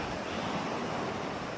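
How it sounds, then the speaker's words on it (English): Steady broadband wash of ocean waves rolling up a beach, continuous and fairly close, with a constant hiss and no voices. "that water, it just keeps rolling up and down the beach"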